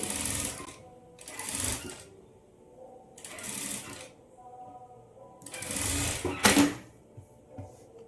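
A sewing machine stitches a blouse in several bursts of a few seconds each, with quiet pauses between them, running close and moderately loud.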